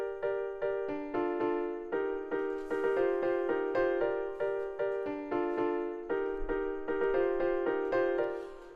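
A keyboard plays an alternate arrangement for the chorus of an Afro pop beat, with bright, rhythmic chords struck in a steady repeating pattern and heard alone without talking.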